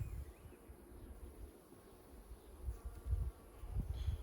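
Honeybees buzz faintly during an opened hive inspection, with a soft, steady hum under low thuds and handling bumps from nearby.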